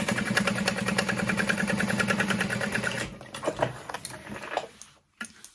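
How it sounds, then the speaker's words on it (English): A sewing machine top stitching a handbag runs in a rapid, even mechanical patter for about three seconds, then stops, followed by a few close handling knocks and rustles. "And then I'm going to top stitch those down and through the bottom panel piece."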